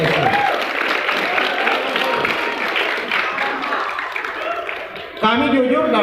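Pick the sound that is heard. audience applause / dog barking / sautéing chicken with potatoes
audience applause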